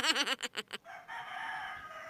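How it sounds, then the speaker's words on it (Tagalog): A rooster crows loudly in several wavering bursts up close, followed by a steady chorus of chickens clucking and calling in the background. "pasensya na po sa ingay ng mga manok"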